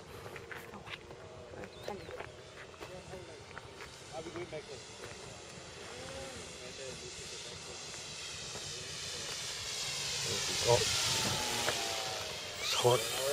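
A small model airplane engine runs with a high, buzzing whine that swells louder toward the end, while people talk nearby over the steady drone.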